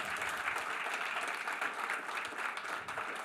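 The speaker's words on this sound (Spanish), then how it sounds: "déle ese aplauso al Señor" A church congregation claps during a sermon, sustained applause with an uneven, crackling texture carrying on steadily throughout.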